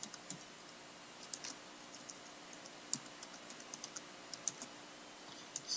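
Computer keyboard being typed on while a jQuery script is written, with quiet, irregular key clicks scattered against a faint background hiss and no speech.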